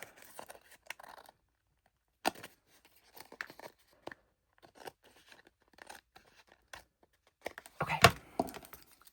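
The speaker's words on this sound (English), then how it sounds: "I am going to use scissors for that because I don't want to cut that edge" Scissors cut through paper in scattered, quiet snips and crinkles close by, separated by pauses, with one louder cluster of cuts near the end.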